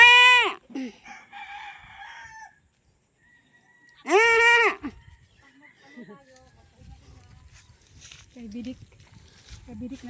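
A goat on a farm gives two loud, close bleats several seconds apart, alongside clucking fowl, and people talk quietly in between.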